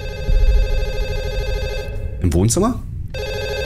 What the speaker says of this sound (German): Telefon. Ich höre ein Telefon.